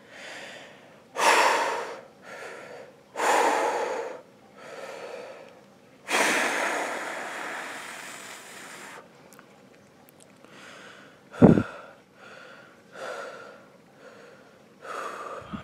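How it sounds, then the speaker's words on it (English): A nervous man takes several deep, audible breaths, loud inhales and exhales with gasps and snorts at close range, broken by one sharp throat-clearing catch partway through, then more slow breathing. "let me keep taking a few breaths and clear my throat before I start this"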